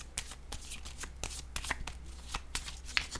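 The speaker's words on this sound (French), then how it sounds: "Je vais piger une carte rose sur ces deux-là." Pink oracle cards shuffled by hand and drawn: a steady run of crisp riffling flicks and soft slaps, close and fairly quiet, with no talking.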